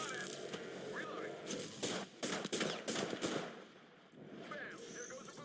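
Rapid bursts of gunfire ring out in a squad-based shooter video game, with loud repeated volleys and crackling shots from several directions over steady game ambience, and a voice talks briefly alongside.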